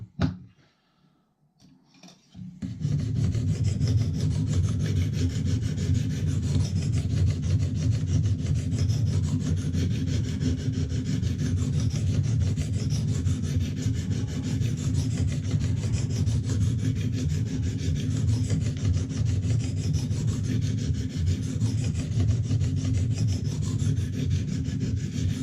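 Steady abrasive rubbing of a Lansky guided sharpening stone drawn across a knife edge marked with black marker, continuous and close, starting after a brief pause and running without a break.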